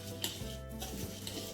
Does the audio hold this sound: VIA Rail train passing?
no